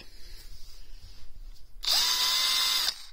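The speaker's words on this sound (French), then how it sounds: "C'est une visseuse perceuse" Titan 18V cordless percussion drill driver with a 13 mm chuck, revving up for about a second of steady high-pitched motor whine, then stopping, near and loud after a quiet lead-in.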